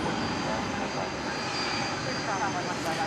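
An MD-11 cargo jet at DFW airport at night, a loud, dense, unbroken engine roar with a thin high whine on top, filling a short stretch.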